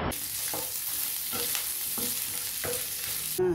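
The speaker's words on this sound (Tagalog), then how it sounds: "Hinalo ko na." Pork kare-kare with garlic and onion being stirred in a hot pan: a constant close sizzle with rhythmic scrapes of the spoon roughly every half second, and a louder clatter at the end.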